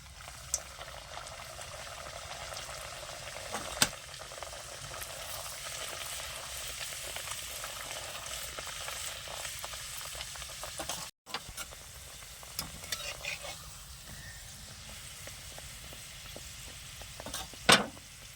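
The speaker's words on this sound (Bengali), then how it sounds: "দেখুন এটাও কিন্তু ভাজা হয়ে গেছে আর এইভাবে আমি কিন্তু সবগুলো ভেজে নেব" Pea-stuffed khasta kachori deep-frying in oil, a steady crackling sizzle running throughout with a brief break midway and a few sharper pops and clatters.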